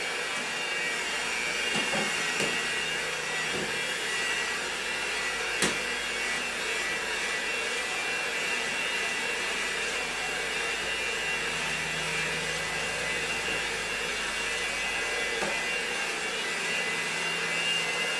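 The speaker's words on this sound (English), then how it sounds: "you're going to start mixing it with the dough hooks" An electric hand mixer fitted with dough hooks works egg noodle dough with a loud, constant motor whine that runs unbroken and close, with only a few faint knocks.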